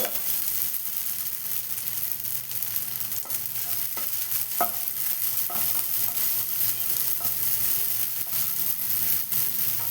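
Sago pearls roasting in a pan for sabudana payasa, a steady dry rustling scrape of stirring with a few light clicks of the spoon, close and continuous with no talk.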